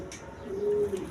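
A silver pigeon gives a single short, low coo up close, a brief, soft murmur over quiet background.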